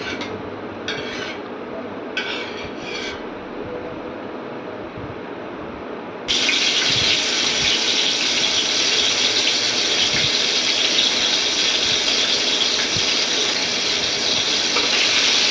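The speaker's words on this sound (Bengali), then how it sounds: "তেলটা গরম হয়ে গেলে মাছগুলো দিয়ে দেবো।" Rohu fish pieces hit hot oil in a wok, launching into a loud, steady hiss of frying that holds for several seconds after a brief quieter stretch of faint kitchen sounds and light clinks.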